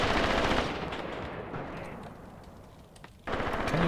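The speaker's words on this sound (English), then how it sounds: "somebody is shooting at my rifle" Machine-gun fire in the WWII tactical game Graviteam Tactics during forest fighting at a bridgehead, loud rapid bursts at the start, fading into a quieter rattling stretch, then a sudden loud burst resuming near the end.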